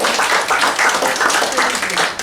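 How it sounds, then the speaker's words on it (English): An audience gives a round of applause at an evening talk, dense clapping that stays loud and steady before tapering off at the end. "That was a really nice round of applause"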